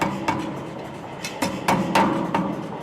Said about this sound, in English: I'm just going to use the power hammer to start forging in our tip